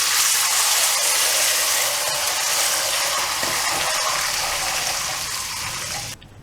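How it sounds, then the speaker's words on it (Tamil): Tamarind water pours into a hot pan, a loud and steady gushing hiss that holds for several seconds, then fades slightly and cuts off abruptly. "இப்போ இந்த புளி தண்ணியை ஊற்றி"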